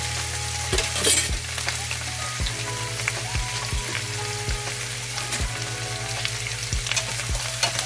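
Garlic and butter sizzle steadily in a pan for a shrimp dish, a dense frying hiss with periodic soft utensil knocks against the pan, close and continuous with no talking.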